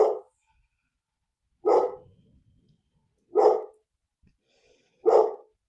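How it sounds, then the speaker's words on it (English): A dog barks four times, single loud barks spaced evenly apart with silence between them. "That's my dog, Terrence."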